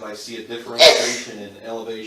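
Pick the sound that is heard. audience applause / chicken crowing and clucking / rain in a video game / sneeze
sneeze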